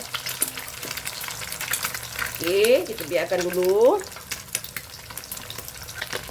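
Rice vermicelli with taucu stir-fries in a wok, giving a steady crackling sizzle with scraping stirs; someone speaks briefly over it, and a few rising squeaky tones appear midway.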